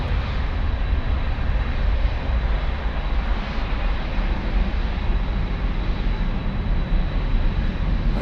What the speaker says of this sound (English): this is Lufthansa cargo flight 8386 en route to Tokyo Narita